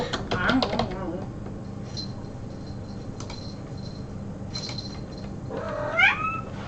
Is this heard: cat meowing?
yes